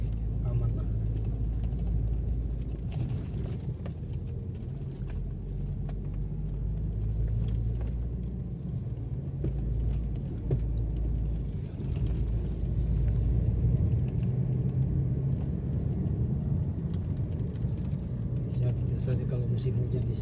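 A 2023 Daihatsu Terios facelift with manual transmission climbing a steep, winding road, with a steady low engine and road rumble heard from inside the cabin that stays even and continuous throughout.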